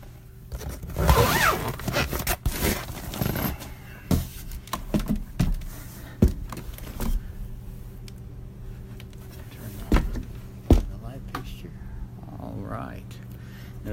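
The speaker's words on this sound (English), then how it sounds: "It has a zipper on it." Zipper on a home insulation cover being worked, several quick rasping pulls and scrapes clustered early, then scattered softer clicks and rustles, fairly close in a quiet indoor room.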